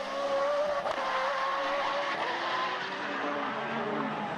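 Tom Gaughran's Radical sports car races flat out down the straight at Mondello circuit, a loud, close, steady high-revving engine drone with a brief tire scrub near the start.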